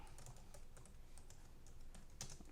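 Soft, fairly quiet clatter of a computer keyboard as a medical term is typed out, with even keystrokes running continuously and no voices.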